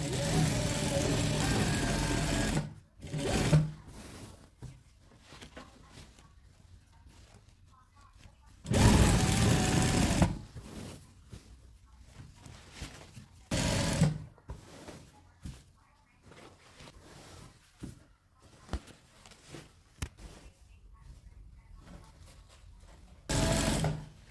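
A sewing machine stitching curtain fabric for pencil pleat curtains runs in several short, loud bursts of rapid whirring, separated by longer quiet pauses.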